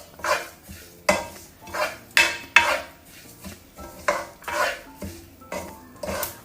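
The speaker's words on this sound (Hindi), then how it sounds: "आप साथ साथ चमचा जिस तरह मैं चला रही हूँ आप चलाते जाइएगा" A spoon scraping and knocking through a thick flaxseed mixture for alsi pinni in a cooking pot, about a dozen rhythmic strokes, close and fairly loud.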